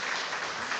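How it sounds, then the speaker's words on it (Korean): Church congregation applauding during a Sunday morning service, a dense wash of clapping hands that holds steady and fairly loud for under a second. "박수로 격려해 주시죠."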